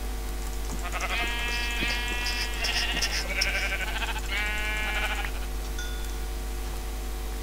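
Minecraft sheep bleat in a few short wavering calls, close and clear, over a steady low game hum with faint clicks and a brief chime near the end.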